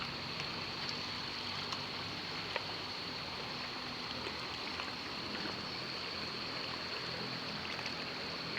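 Water of the San Mateo river in Samar flows in a steady broadband wash, close and continuous, with faint trickling detail and no voices over it.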